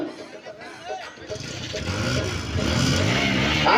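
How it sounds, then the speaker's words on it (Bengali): Three motorcycles being started and revved on a high school playing field, engine noise building steadily and getting louder under a crowd of voices and nearby talk. "ভাই তিন মোটর সাইকেল স্টার্ট দেন"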